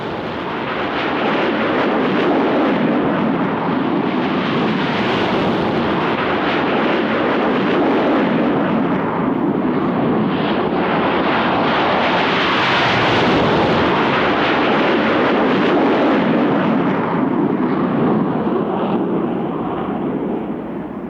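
Four McDonnell Douglas Phantom FGR-2 jets of 56 Squadron scramble at a 1990 air show, a loud, continuous broadband jet roar that swells and eases slightly as they pass.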